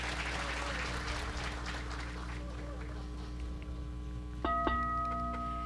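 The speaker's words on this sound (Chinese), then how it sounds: "最热烈的掌声感谢圣尊主证这么殊胜珍贵的护摩大法" A crowd applauds at a Buddhist homa fire ceremony led by Living Buddha Lu Sheng-yen, a steady wash of clapping that thins out as sustained droning tones, like chanting or ritual music, take over toward the end.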